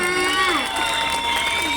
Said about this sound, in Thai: ปรบมือหน่อยขอบคุณครับ